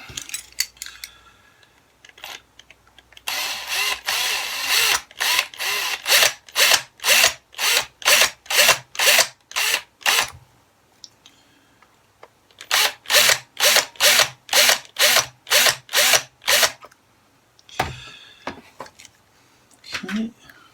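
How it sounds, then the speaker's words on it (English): A power drill bores into a toy tipper truck in two long runs of rapid, rhythmic bursts separated by a short pause, loud and close, with brief handling clatter around them. "This tipper truck needs a slightly smaller drill bit, I feel."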